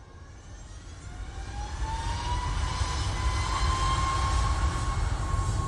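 A TUI airliner departs Manchester Airport for Skiathos, its jet roar building over the first two seconds, then holding loud and close with a rising whine.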